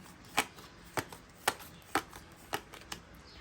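Tarot cards being shuffled, about seven crisp, sharp riffling snaps at a steady rhythm roughly half a second apart, close and quiet.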